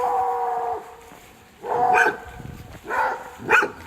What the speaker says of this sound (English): That's like a hound dog or something.